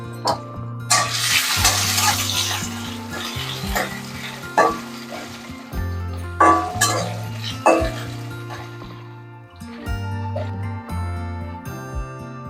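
Small potato pieces, cut for chholar dal, fry in a pan with a steady sizzle while a utensil scrapes and clinks against the metal in short bursts. Deep tonal music plays throughout.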